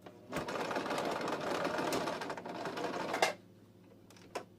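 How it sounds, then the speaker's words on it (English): A sewing machine stitching patches onto jeans runs in a steady, fast mechanical whir for about three seconds, then stops, leaving a couple of faint clicks in a quiet room. "So I'm just sewing patches in my jeans."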